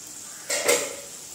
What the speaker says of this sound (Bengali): ঢাকনাটা আমি তুলে দিচ্ছি।